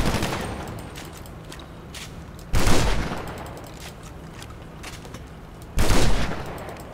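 Gunfire in GTA 5 Online: two loud, sharp shots a few seconds apart, each with a short ringing decay over steady in-game background noise.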